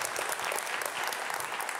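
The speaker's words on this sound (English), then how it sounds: "You got a round of applause here in New Jersey" Applause from the audience at a live New Jersey town hall on Superstorm Sandy, a brief, dense, even burst of many people clapping at once.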